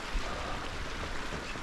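A mountain stream on Kirk Fell runs with a steady, even wash of flowing water, a constant broadband rush heard at moderate distance with no voices.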